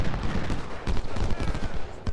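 Musket volley fire from Civil War infantry in the Ultimate General: Civil War video game, a dense crackle of overlapping shots rolling on continuously for a couple of seconds at moderate loudness.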